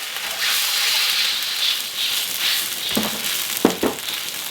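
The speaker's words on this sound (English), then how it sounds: "I don't want to let that garlic burn." Three cloves of garlic sizzle steadily in a hot pan, a soft continuous frying hiss with a few brief clinks or stirring knocks near the end.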